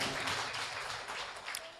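Congregation clapping during a church sermon in Durgi, a steady wash of applause from many hands through the whole clip, with faint voices underneath.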